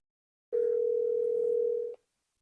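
A phone call's ringing tone sounds as one steady, clean electronic hum lasting about a second and a half, clear and alone against silence.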